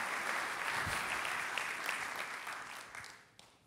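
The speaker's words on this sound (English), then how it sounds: "Let's give them a big round of applause for building this amazing project and building." Applause for a development team at a Long Beach civic address, with a crowd clapping steadily, then tapering near the end as a last few claps ring out.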